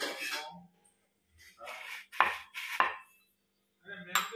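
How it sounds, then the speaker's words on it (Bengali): Rolled phuchka dough being cut into small rounds with a small drinking glass on a board, heard as a series of short, close knocking and scraping presses spaced irregularly with brief pauses between them. "ছোটবেলার গ্লাসে করে কেটে নিচ্ছি ফুচকাটা"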